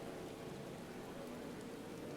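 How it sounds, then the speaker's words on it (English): Steady, even rain hisses across the ground in a Final Fantasy XIV town scene, a dense and constant wash with no breaks or thunder. "I like that everyone's got their umbrella out though, in the rain."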